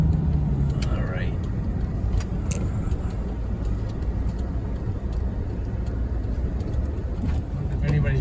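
A car drives along a camp road near a river, with a steady low engine and road rumble filling the background while a person talks quietly over it.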